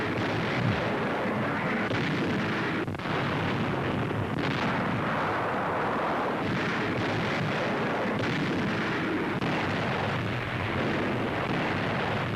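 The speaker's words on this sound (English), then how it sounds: "Naval guns cover the landing." Naval guns cover an Allied beach landing in Sicily in a World War II strategy game, a continuous dense rumble of distant artillery and explosions rolling without pause for about twelve seconds.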